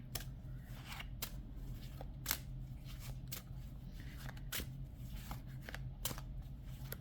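A fun little deck of cards shuffled by hand in a quiet room, producing repeated sharp riffling bursts at irregular intervals over a low steady background hum, with no talking.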